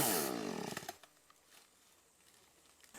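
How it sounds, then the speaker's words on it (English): A sawmill blade cuts the dirty end off a log, a loud roaring buzz for about a second, then it stops and only faint workshop noise remains. "the easiest thing to do is just cut the very end of the log off"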